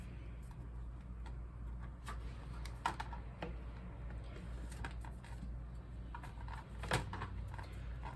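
Peeps marshmallows being cut on a board produce soft, scattered knife taps and thuds at close range over a low steady background hum.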